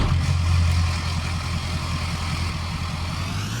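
A 2017 Ford diesel pickup with a loud exhaust idles in a farming simulator game, a steady low rumbling drone that holds even and continuous throughout.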